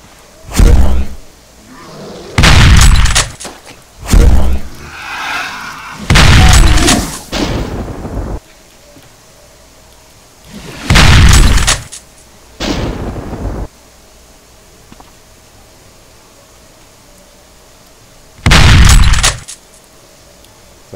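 Heavy blasts from DOOM remake gameplay on PC, a series of loud, separate booming shots and explosions spaced by short quiet gaps, some doubled in quick succession.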